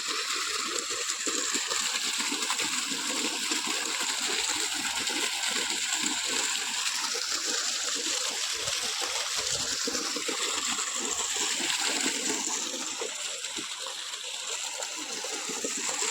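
Irrigation water pours in a steady, loud broadband rush, a constant gushing flow with a slight dip near the end.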